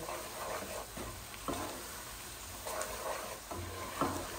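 Garlic fries in a pan of oil for Naga chili pickle, a steady close sizzle broken by a few louder scraping stirs of the spoon, with no one speaking.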